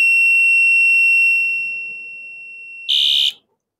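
A bicycle's electric horn buzzer sounds a piercing steady high tone that tapers off, then a brief harsher, muffled burst as the buzzer is partly covered, ending abruptly in silence.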